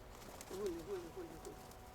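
Pigeons give a few soft rolling coos in quick succession, close by, against a low outdoor background with faint murmurs.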